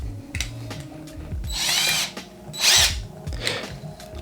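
A power drill backing a Phillips head screw out of a rifle buffer tube, with loud whirring bursts in short runs broken by brief pauses and ratcheting mechanical clicks.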